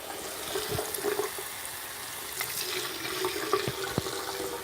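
A hand is rinsed under a running tap, with steady splashing water for a few seconds and a few small clinks nearby; no one speaks.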